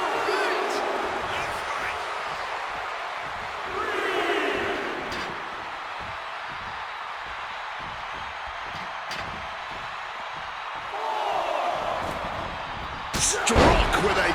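Kick impacts land as heavy slams during a WWE 2K wrestling video game match, thudding over a steady roar of crowd noise and commentary, with a sharper hit near the end.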